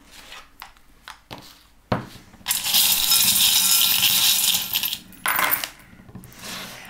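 Fortune-telling charms tossed down, a few small clicks and knocks followed by a loud metallic rattling cascade of tumbling trinkets that settles, briefly rattles again, then stops, close and alone.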